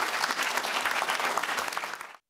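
An audience claps in steady, dense applause that fills the room evenly and then cuts off abruptly.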